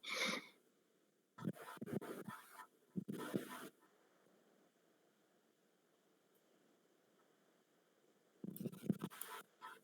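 A marker scratches and squeaks across a board during an online graph theory class, in a few short bursts separated by quiet pauses, close and faint, with no talking.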